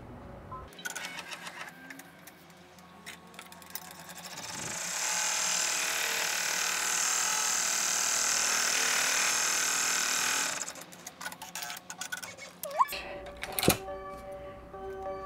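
An embroidery machine sews a placement stitch for an in-the-hoop bear sign, its steady high whirring running for about six seconds between quieter clicks, thread handling and brief starts and stops.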